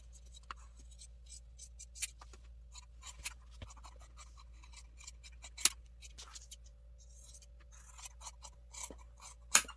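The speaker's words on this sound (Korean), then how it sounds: "반편을 이렇게 잘라주세요." Scissors cut fabric pieces for a baby bodysuit, with repeated crisp snips and slicing strokes close by over a low steady hum, sharpest near the end, no talk.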